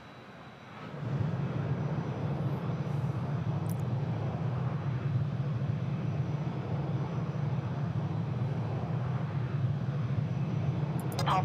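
Steady jet airliner engine roar in an air traffic control simulation at New Chitose, rising in at the start and then holding a constant low rumble throughout, loud and near.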